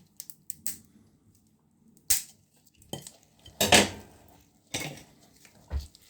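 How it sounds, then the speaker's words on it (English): A metal spoon scrapes crab meat into the shell, giving short sharp clinks and scrapes against shell and dish, sparse and close with quiet pauses between them. "Scrape the fish, the meat into the shell like the previous 3"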